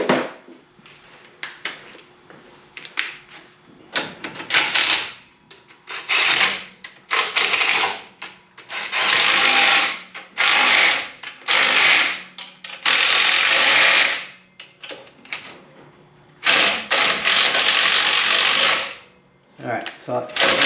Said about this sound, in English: I think I'm going to go ahead and tighten it now before I put the turnbuckle assembly together.